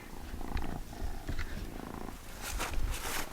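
A farm cat purrs steadily up close, a low continuous rumble with a few soft rustles and bumps near the end.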